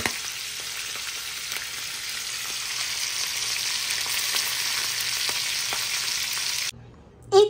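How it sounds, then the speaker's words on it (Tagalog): Steady, dense sizzling of fish frying in hot oil in a pan, continuous and close, with a brief clink near the end after the sizzle cuts off. "Ito na po ang prito kong isda."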